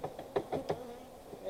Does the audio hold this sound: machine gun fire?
no